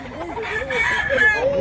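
A rooster crows loudly and close by, one long drawn-out call with a wavering pitch that carries through the whole clip.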